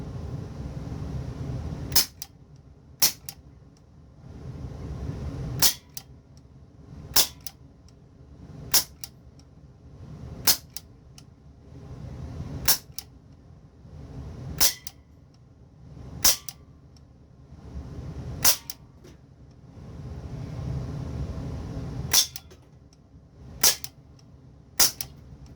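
A Big Bang AK-74 CO2 4.5mm airsoft rifle firing at cans, with about a dozen sharp single shots spaced a second or two apart over low background rumble.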